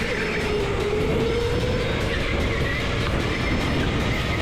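Race car held flat out through the first turn of Overdrive Raceway in reverse layout, a steady loud engine drone with a rising tonal whine, constant and close throughout.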